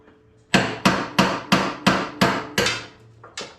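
A hammer strikes a part on a Honda HS928 snowblower gearcase about eight times in a steady rhythm. The blows are sharp, loud and close-up metallic whacks, each with a short ring, and no one talks.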